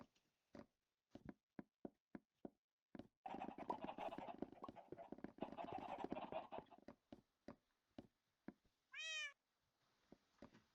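Several cats meow in Minecraft, with a cluster of short meows near the end amid sparse clicks and taps and a stretch of busier rustling game noise in the middle.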